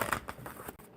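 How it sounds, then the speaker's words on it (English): A deck of mermaid oracle cards gets a quick, close shuffle, a second of papery riffling and flicking with no voices. "I'm going to shuffle the mermaid cards unless you say differently."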